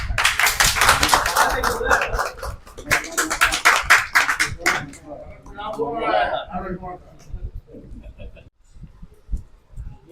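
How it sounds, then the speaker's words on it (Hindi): Audience applause at a gathering announcing a Shashtang Dandvat Yatra in Jaunpur, heard as a burst of hand claps mixed with loud nearby talk, fading after a few seconds into scattered voices and taps. "एक जोरदार तालियां इनका"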